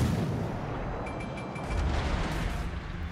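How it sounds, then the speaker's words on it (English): A torpedo hit on a ship in World of Warships Legends produces a loud, deep, rumbling naval explosion that stays continuous and boomy throughout, with a low surge partway through. "And got the torpedo hit."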